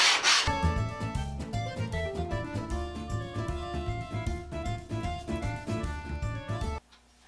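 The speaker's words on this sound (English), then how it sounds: "We'll flatten out the bottom, starting with the 80 grit first." A Stanley scraper plane's pitted sole is flattened on 80-grit abrasive, rubbed in a steady back-and-forth rhythm of gritty strokes that run loud and close before stopping abruptly near the end.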